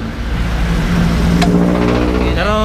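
A repaired Honda Click scooter engine runs steadily at close range with a constant low hum, a brief sharp tick midway, and a rising whine near the end.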